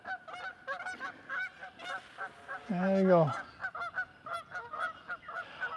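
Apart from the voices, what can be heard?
Canada geese honking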